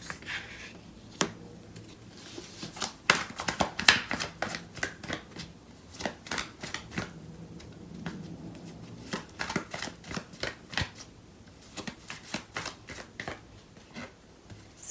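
Tarot cards are shuffled by hand at close range, repeated crisp riffles and slaps in irregular bursts over about fifteen seconds, without talk.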